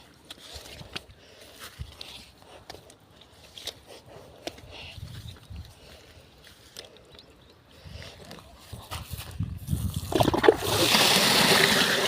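Water flows through a farm irrigation channel in a fennel field once a joint in the channel is taken out, a soft trickling and splashing that swells into a louder, steady rush toward the end.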